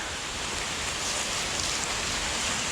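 Heavy rain pours steadily in a dense, even hiss outdoors at a fishing spot, close and constant with no voices.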